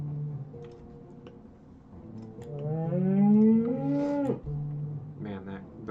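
Cattle in a Sumerian city-builder game let out a long, loud moo that rises and swells before cutting off, followed by a shorter low call, close and prominent over a quiet game backdrop.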